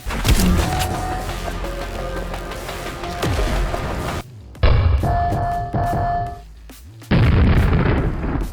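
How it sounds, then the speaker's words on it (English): Grenade launcher rounds from the movement shooter SPRAWL burst in heavy, booming explosions, several loud blasts in succession with abrupt cuts between them, dense rumbling low end and crackling debris, no talking. "SPRAWL's grenade launcher makes the same exact bouncing sound as Quake 2's grenade launcher."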